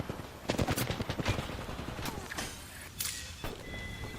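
A rapid burst of automatic gunfire crackles through a firefight in the battle royale shooter Apex Legends, followed by a few scattered single shots over steady background game noise.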